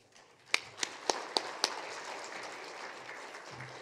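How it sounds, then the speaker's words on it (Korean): In a church, people applaud to welcome a pastor to the pulpit: a few sharp early claps, then a soft, sustained patter of clapping from a congregation, faint and somewhat distant. "나오실 때 박수로 환영하겠습니다"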